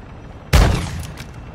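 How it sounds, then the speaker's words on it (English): A single loud shotgun blast in the DMZ video game, sharp onset after a quiet stretch, followed by a decaying echoing tail with faint scattered sounds after. "Shoot over there with that shotgun."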